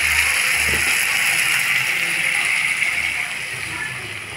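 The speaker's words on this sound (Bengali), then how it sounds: "এখন দিয়ে দেবো জল" Water is poured into a pan of fried masala and tomato for a fish curry. A continuous splashing gush runs steadily and eases off slightly at the end, with no talking over it.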